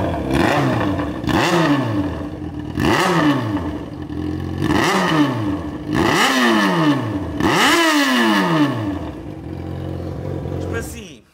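A Yamaha XJ6 motorcycle with an engine fault revs up repeatedly, about six rising bursts in a steady rhythm, loud and close, each throttle blip dropping back before the next.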